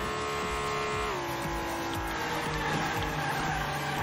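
A toy car racing in Hot Wheels Unleashed scrapes into a wall, with steady engine drone, tire squeal and a sudden shift in pitch as it hits, loud and continuous with no talking.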